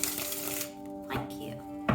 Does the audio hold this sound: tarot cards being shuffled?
yes